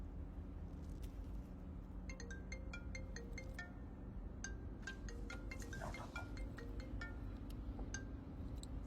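A phone rings unanswered in a quiet room, its faint, repeating electronic tone pattern chiming on and off over a steady low background hum.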